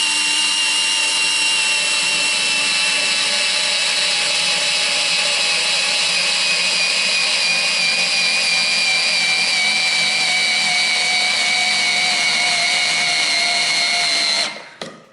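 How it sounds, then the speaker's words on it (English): A Parkside Rapidfire 2.2 cordless screwdriver drives a self-tapping screw into wood with a loud, steady motor whine whose pitch slowly drops under load, stopping abruptly at the end. "I'm just going to try a self-tapping screw because it shouldn't put as much strain on the screwdriver, and it will tap itself"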